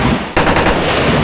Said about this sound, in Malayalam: അടുപ്പിച്ച് ചടയെന്ന് പറഞ്ഞ് വെടി വെക്കണം